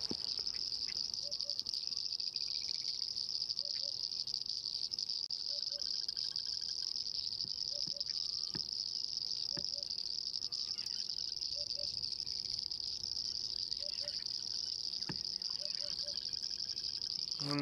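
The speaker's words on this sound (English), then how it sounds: "Some rain frogs, some painted reed frogs." Evening chorus of rain frogs and painted reed frogs at a rain-filled waterhole on an African safari, a dense steady high-pitched trilling with regular paired calls repeating throughout, distant and continuous with no voices.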